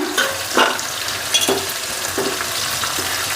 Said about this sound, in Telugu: టమోటా మెత్తబడే వరకు అయితే వేయించుకుందాం